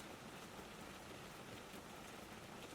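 Rain patters on the glass roof of a greenhouse in a continuous, uniform hiss of drops, steady and close with no change in intensity and no talking.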